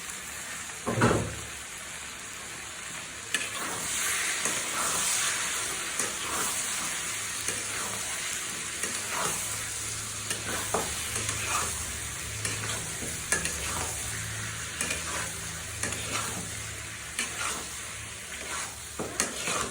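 Beef pieces for a Bengali-style bhuna fry and get stirred in a pan, a close, continuous sizzle broken by repeated spatula scrapes and knocks against the pan, with no one speaking.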